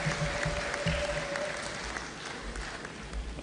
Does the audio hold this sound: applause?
yes